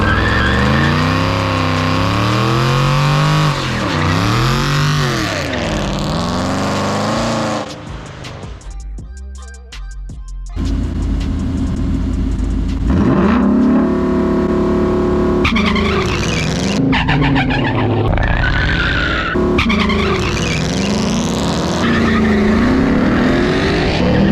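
Stock Mustang with an Airaid intake and Magnaflow exhaust racing a 400hp mini truck, engines loud and close, revs rising and falling through the gears with a brief dip mid-run and no talk.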